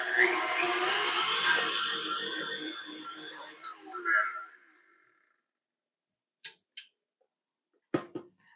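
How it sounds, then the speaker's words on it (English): An electric mixer on high whirs through vegan cheesecake filling for about four seconds before winding down, followed by silence and a few faint knocks. "let's give it one more spin with the mixer, and we'll put it on high"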